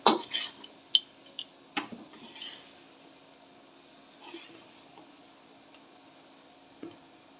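A spoon stirs beef curry in a metal pot after black pepper goes in, giving quiet, scattered scrapes and clinks against the pot, close and faint with pauses between strokes.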